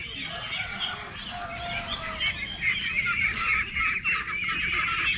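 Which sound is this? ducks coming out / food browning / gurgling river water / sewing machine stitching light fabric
ducks coming out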